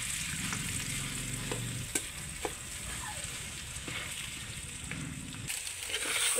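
Jackfruit chop mixture fries in a pan with a steady close sizzle, broken by a few sharp clicks of a utensil against the pan and occasional stirring scrapes.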